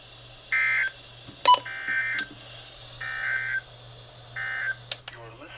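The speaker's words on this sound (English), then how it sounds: "routine Wednesday morning test of the NOAA Weather Radio Warning Alarm System" NOAA Weather Radio alert tones from a routine weekly test: four short, evenly spaced bursts of electronic signal with a couple of sharp beeps between them, all over a low steady hum.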